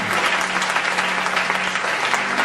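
A church congregation applauding together, a dense, steady wash of clapping from many hands that carries evenly throughout.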